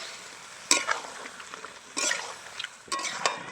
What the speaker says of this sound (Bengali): এবার আমি যে টক দইটা ফেটে রেখেছিলাম সেটা দিয়ে দিচ্ছি। এবার খুব ভালো করে আমি নেড়ে নেবো কিছুক্ষণ।